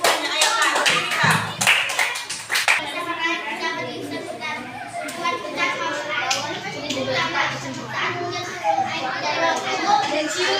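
Schoolchildren in a classroom clap for their classmates, a burst of quick, sharp claps at first that gives way to lively overlapping child chatter and speech with scattered claps beneath.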